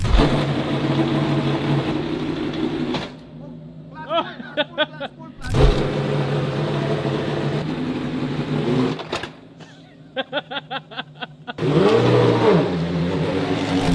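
A Formula 1 car engine on track, roaring loudly and steadily, then dropping away into short rising rev bursts before surging back to full throttle, with the pattern repeating.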